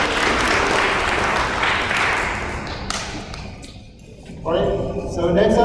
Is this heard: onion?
no